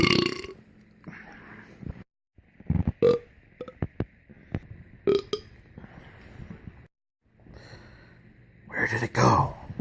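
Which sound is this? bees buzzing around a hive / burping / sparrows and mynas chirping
burping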